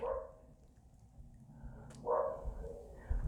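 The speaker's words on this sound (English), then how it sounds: "The dog is freaking out upstairs." A dog barks a couple of times from somewhere upstairs, muffled and fairly faint, with a quiet gap between the two barks and a low background rumble.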